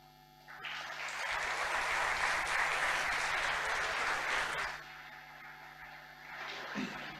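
Applause from a conference audience after a talk swells quickly and holds as a dense wash of clapping, then fades back to a quiet room hum. The audience sounds somewhat distant and soft.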